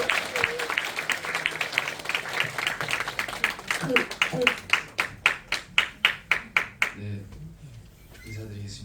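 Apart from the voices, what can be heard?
audience applause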